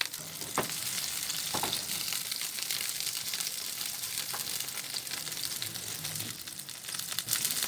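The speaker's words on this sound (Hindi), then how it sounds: "ये देखिए ये फ्राई हो रहे हैं।" Chicken nuggets and round-cut sausage slices frying in a pan, a continuous dense crackling sizzle with occasional sharper pops and stirring scrapes, close and fairly loud throughout.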